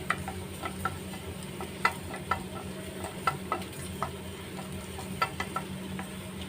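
Fenugreek seeds, with mustard seeds, dry-roasting in a pan: a faint, steady sizzle carries small ticking pops and light scraping at irregular intervals, with no talking.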